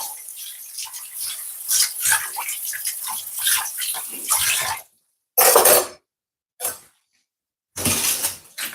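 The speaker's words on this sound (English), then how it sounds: "I'm just going to give these a bit of wash. Just rinse my knife off." Tap water runs hard in a kitchen as vegetables and a knife are rinsed for Jamaican steamed callaloo: a loud, close, hissing splash that cuts off, then returns in short bursts.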